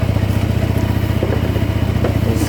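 A 125cc motorcycle engine running steadily close by, a continuous low, even idle throb with faint mechanical clatter throughout, heard alone without talk.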